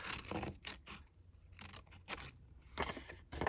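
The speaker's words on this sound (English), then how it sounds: "Snipping it here, taking this off." Steel scissors snip and slide through a thin encyclopedia page for a junk journal craft. The cuts come as a string of faint, close, crisp bursts of rustling paper with short gaps between them.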